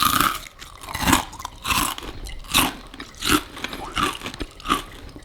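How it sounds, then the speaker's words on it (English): Close-up bites into crunchy belacan (shrimp paste) fried chicken, with about six loud, sharp crunches spaced roughly a second apart as the crust breaks, followed by chewing. "I don't know if you can hear this crunch. I'm gonna take a bite next to the microphone."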